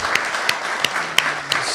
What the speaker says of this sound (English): it's worth to give a loud applause to those who contributed to the organization